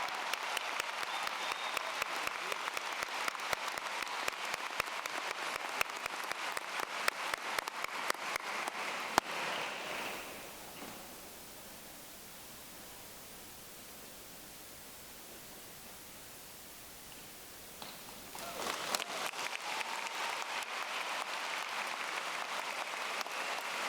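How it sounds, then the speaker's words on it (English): An audience at the 2019 Manchester High School graduation applauds in a dense, sustained burst that fades out for several seconds, then swells back into full clapping. "Let's give a great round of applause to these 18 students."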